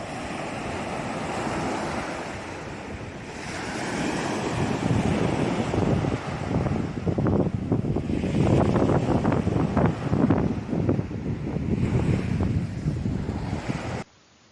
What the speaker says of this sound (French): Donc toujours pas mal de vent